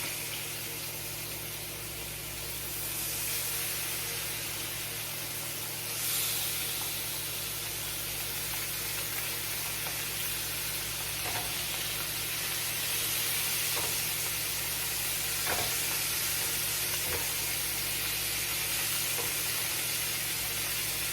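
Leftover pot roast beef frying as steak in a pan, a loud, continuous hissing sizzle that holds steady throughout, with a few faint clicks and pops underneath.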